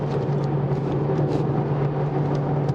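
A Mercedes-AMG CLA 45 S 4Matic+ with a 2-litre engine accelerates through a corner, giving a fairly quiet, steady engine hum with road and cabin noise and no sharp peaks.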